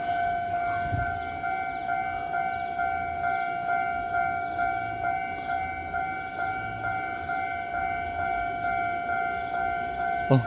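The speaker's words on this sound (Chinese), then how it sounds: "哦，两边都有列车哎。" An eight-car EMU700 electric multiple unit commuter train passing on the Yilan line in Taiwan, a steady loud rolling rumble with a sustained high warning tone over it throughout.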